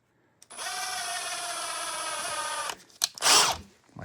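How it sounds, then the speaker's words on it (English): A cordless drill whines steadily at high speed for about two seconds while boring stud holes in the track of a 2025 Ski-Doo MXZ snowmobile. It stops, then a short clatter and a burst of hiss follow. "Then I put their tool in my other drill."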